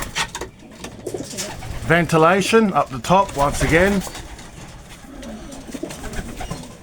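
Racing pigeons in a small loft coo in soft, rolling, repeated calls close by, while someone talks over and between them.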